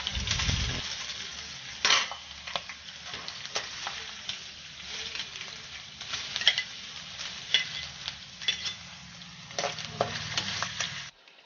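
Clams fry in a little oil in a pan with a steady, close sizzle for over ten seconds, broken by the scrape and clink of a spoon stirring; no one speaks.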